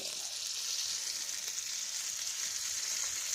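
A fish fries in a pan with very little oil, scorching black, producing an even, dense, close hiss of sizzling with faint crackles throughout and no speech.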